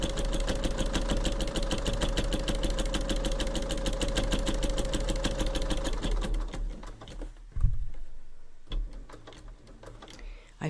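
Sewing machine stitching Halloween bunting fabric, a fast, even rattle of needle strokes for about six seconds before it slows and stops, followed by a few handling knocks and clicks.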